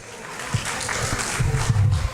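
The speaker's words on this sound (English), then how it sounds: "Applause" Applause from a senior center audience at a volunteer recognition event, a steady broadband patter running throughout at moderate level with scattered low thumps and some voices mixed in.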